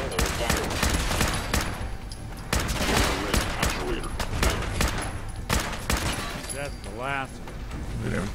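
A rifle in Fallout 4 fires in repeated loud bursts of rapid automatic gunfire. Mechanical clanks sit between the bursts, and a voice talks over part of the shooting.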